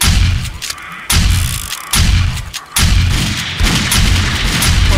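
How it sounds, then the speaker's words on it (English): Loud, heavy booming blasts in the 7 Days to Die video game, Alpha 14.7, during a horde fight: several deep explosive bursts follow one another over a few seconds, each a dense rumbling roar with brief dips between. "I think I just blew that guy up."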